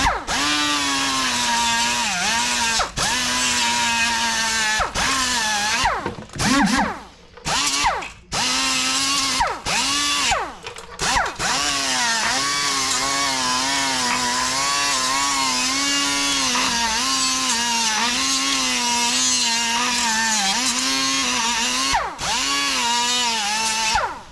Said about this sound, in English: take your grinder like this. We're gonna clean this off.